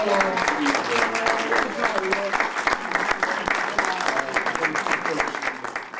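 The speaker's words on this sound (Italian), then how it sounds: "Un applauso a loro" Applause for the staff at the inauguration of the Maria Rosa Strazzi nursery in Poggio Rusco, a crowd clapping steadily and fairly close, with voices talking and murmuring underneath throughout.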